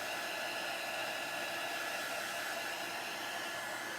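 A hair dryer blows steadily on a St. Patrick's Day craft piece, a constant loud close whooshing roar with no break.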